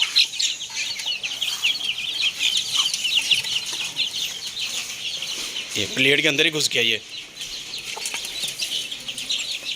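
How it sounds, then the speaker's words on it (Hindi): A busy chorus of high chick peeps with a hen's clucks nearby as the hen calls her chicks to feed; someone speaks briefly midway. "तो चारे को देख के मुर्गी ने सारे चूजों को कुक कुक करके बुला लिया है।"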